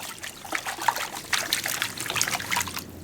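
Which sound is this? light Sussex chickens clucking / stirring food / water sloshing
water sloshing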